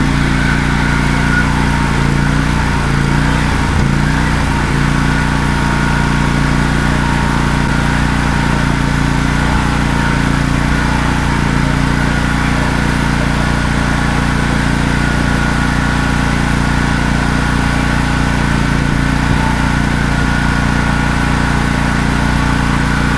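A small portable generator engine runs at a steady idle while its carburetor is run dry, a constant loud mid-pitched hum with harmonic drone and no pauses, close to the listener.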